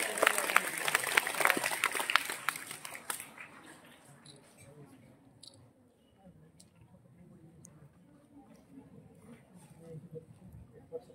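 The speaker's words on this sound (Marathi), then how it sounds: "सर्वांनी जोरदार टाळ्या या ठिकाणी वाजवायच्या" Audience applause at a school naming ceremony: dense, steady clapping from a hall full of people for about three seconds, then thinning out quickly into a quiet murmur of room noise and scattered voices.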